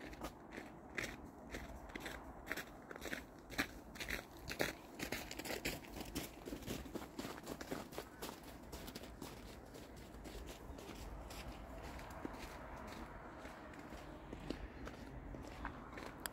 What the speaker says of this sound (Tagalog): naririnig nyo po yung yabag ng kanilang mga sapatos na pang winter, na pang snow.